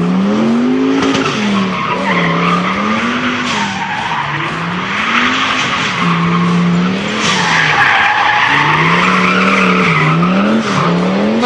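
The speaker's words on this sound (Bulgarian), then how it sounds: "Най-важното в дрифтинга е колата да завие под максимално остър ъгъл и с максимална скорост." A car drifting on a track at around 40 km/h, its tires skidding and squealing in a loud, continuous wavering wail that rises and falls as it slides through sharp turns, with no talk.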